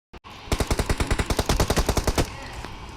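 Full-auto bursts from an M416 rifle in a mobile battle royale game, about twenty rapid, evenly spaced loud shots over roughly two seconds, then a short lingering tail.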